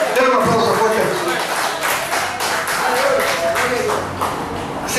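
Congregation applauding in a Christian church service, dense steady clapping from many hands filling the room at close range, with voices mixed in underneath throughout.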